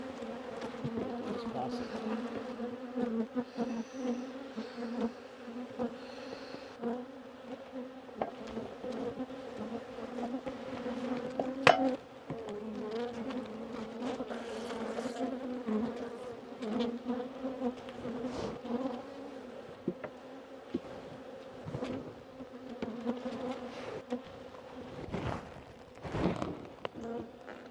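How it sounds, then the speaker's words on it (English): Dense, continuous buzzing of many angry honey bees swarming close by around an opened hive, with occasional thumps and brief bits of talk underneath. "As you can see, I am surrounded by angry, irritated bees."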